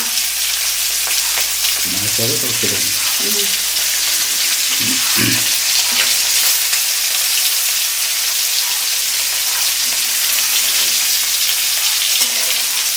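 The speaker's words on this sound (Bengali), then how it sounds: "ডিমটা দিয়ে দিল আর মোটামুটি দু চার মিনিটের মধ্যে এটা ফ্রাই হয়ে যাবে" An egg frying in a pan with soybean for a spicy egg dish, a loud constant sizzle throughout, with a few brief scraping sounds early on and no speech.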